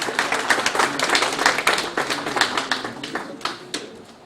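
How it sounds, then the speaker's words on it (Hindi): Loud applause welcoming a poet onto the stage at a Hind-Pak mushaira gathering, with many distinct sharp claps in a busy, uneven rhythm, close and lively, swelling and easing over several seconds. "ज़ोरदार तालियों से इस्तकबाल करें"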